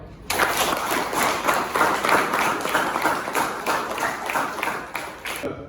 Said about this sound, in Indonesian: Beri tepuk tangan sekali lagi untuk beliau.